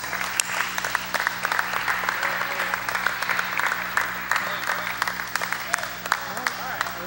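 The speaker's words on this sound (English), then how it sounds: "What about a round of applause for our RHS cheerleaders?" Crowd applause for high school cheerleaders at a community basketball game in a gym, steady clapping with scattered sharp claps and some voices mixed in, continuing across the whole stretch.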